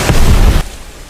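A fireball shot explodes in an animated film, a loud booming burst that roars for about half a second and then cuts off sharply to quiet.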